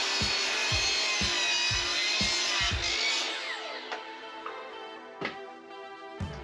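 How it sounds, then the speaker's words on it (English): A saw cuts scorched red gum shiplap cladding at a 45-degree angle: about three seconds of steady, close rasping strokes, then the cut stops and a faint ringing fades out with a few light knocks. "when it comes to cutting these pieces, I do have to cut a 45 on both ends"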